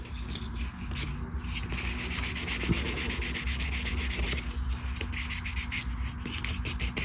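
Steady rhythmic sanding strokes rasp across a super-glue-filled custom bass pickup cover, close and continuous with brief pauses, no voices.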